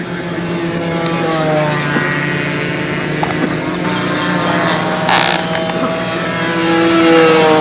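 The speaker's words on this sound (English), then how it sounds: "I want to run the motor first." A model airplane engine runs steadily at an outdoor control-line flying event, a continuous loud buzzing drone with a steady pitch that swells slightly toward the end, heard alone without talk.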